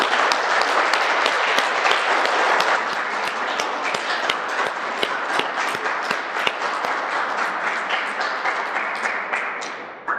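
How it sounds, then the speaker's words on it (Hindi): A yoga class group claps together after sitting in vajrasana, a dense, steady round of hand claps filling the room for about ten seconds before tapering off, with no talk over it. "एक बार तालियां बजा दो।"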